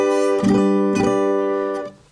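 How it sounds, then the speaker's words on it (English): A slide guitar chord, dampened so it rings clean, sounds as a sustained harmonic chord with two soft slide attacks near the start, then fades out at the end. "when I dampen it, it sounds clean like this"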